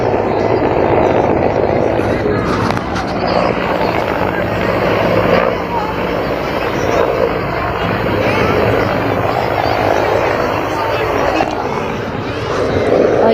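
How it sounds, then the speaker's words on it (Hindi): Loud, steady rotor thrum of helicopters passing close overhead in Varanasi, India, during a prime ministerial visit, with a voice speaking beneath the continuous roar. "और पीछे से एक और हेलीकॉप्टर आ रहा है"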